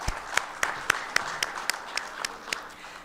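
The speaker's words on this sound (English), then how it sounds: "Mr. Adib Zoghbi, please give a big round of applause." Sparse applause at a business conference as a panelist is introduced, a handful of distinct, evenly spaced claps standing out over a faint room background.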